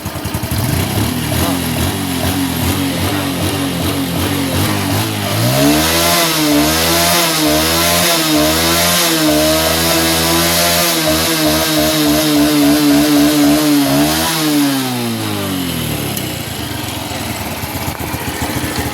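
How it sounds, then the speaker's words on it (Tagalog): A Honda Wave motorcycle engine with a misfire at high RPM revs hard and steadily for most of the stretch, loud and close, its pitch holding high with a rough, pulsing edge before dropping back down near the end. "So, kung ito pang binirit mo ng sagad, parang ayaw magalit yung makina."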